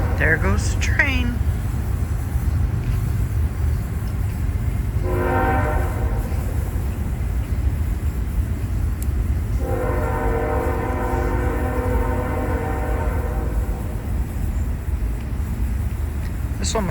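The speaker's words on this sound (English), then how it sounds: "There goes the train." A long train rumbles past at length with a low continuous roar near Oastler Lake, Ontario, and its horn sounds twice in long blasts, with a voice briefly heard at the start.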